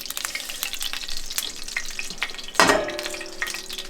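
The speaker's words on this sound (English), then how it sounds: "now I'm actually going to add all of the remaining ingredients hot into this pan" Ingredients for Dong Po pork go into a hot pan and sizzle, with light stirring and clinks over a steady fry, then a sudden loud burst of hissing as more is tipped in near the end.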